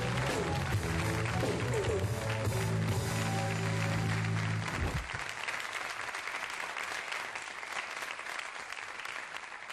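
Studio audience at a Turkish television variety show applauding guests as they leave, loud sustained clapping from a crowd, with music at first that cuts off midway while the applause carries on.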